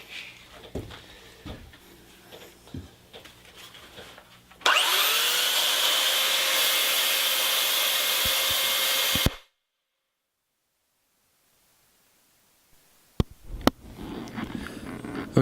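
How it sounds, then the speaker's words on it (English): A stockwhip handle being worked with 120 grit sandpaper: scattered rubbing and knocks, then a loud steady machine whine for about five seconds that cuts off abruptly to silence before handling noise returns. "this is the 120 sandpaper that I'm working with right now"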